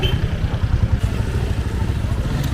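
A motorcycle engine throbs close by at a busy crossroads in a neighbourhood, a steady pulsing putter that fades slightly as it passes, with faint voices in the background.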